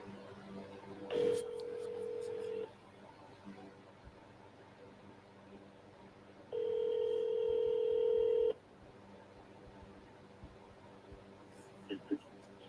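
Two bursts of touch-tone dialing on a telephone while placing a call, the second longer, each a steady electronic tone standing clearly above a quiet, faintly noisy background.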